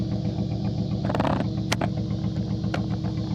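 A cammed Toyota Supra engine idles with a choppy, lumpy rhythm nearby, with a few brief clicks and knocks over the steady running.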